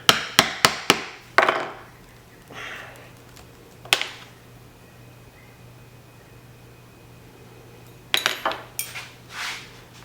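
Metal hammer striking a leather chisel to punch stitching holes for a card wallet: a quick run of five sharp, clear knocks, one lone strike, then another cluster of taps after a quiet stretch.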